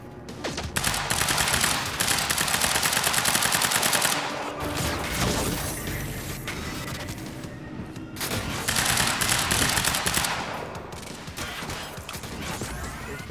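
Sniper fire in the Quantum Break video game comes as dense, loud bursts of shots in two long volleys with a brief lull between them, and no voices over it.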